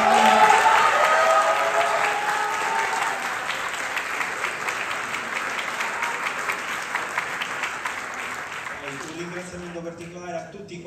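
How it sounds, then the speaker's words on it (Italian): Theatre concert audience at Teatro Garibaldi in Enna giving loud, sustained applause that slowly eases, with a voice emerging as the clapping dies down at the end. "a cui va pure un grandissimo applauso."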